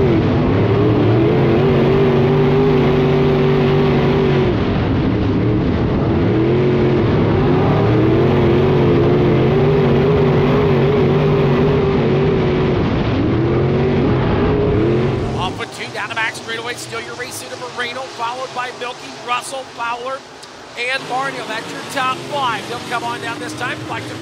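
IMCA modified race cars roar loudly around a track, a steady engine drone for the first fifteen seconds that then drops to a thinner, rougher engine rasp as the pack moves off, with commentary running over it.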